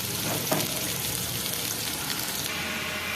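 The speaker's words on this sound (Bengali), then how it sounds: "মাছের ডিম ভাজবো এখন আমি।" Fish roe frying in a pan with onion and chili: a steady, fairly loud hiss and crackle of hot oil runs unbroken from start to finish, and nobody speaks.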